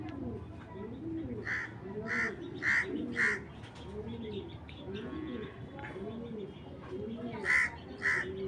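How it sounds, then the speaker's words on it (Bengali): A rare racing pigeon coos in repeated soft rolling phrases, with sharper crow-like calls and chirps from other birds breaking in at intervals nearby. "এটা খুব রেয়ার একটা কবুতর খুবই রেয়ার"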